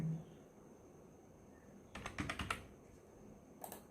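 A short burst of keyboard typing while entering a one-time passcode, several quick clicks clustered together, then a brief pair of key taps after a quiet pause, close and fairly clear.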